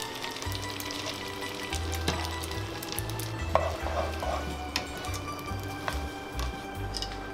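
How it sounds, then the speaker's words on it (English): Pasta being stirred in a pan with pancetta, soft sizzling and scraping with irregular clicks and stirring strokes, fairly quiet with no talk. "And then just give it a really good stir."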